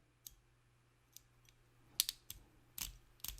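A rifle scope mount on an LPVO being hand-tightened gives a series of sharp, close mechanical clicks, spaced irregularly and growing louder toward the end, over a quiet background.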